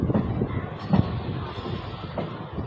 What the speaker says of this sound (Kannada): ನೋಡಿ ಈಗ ವಾಡಿ ಜಂಕ್ಷನ್ಗೆ ಎಂಟ್ರ್ ಆಗ್ತಾ ಇದ್ದೀವಿ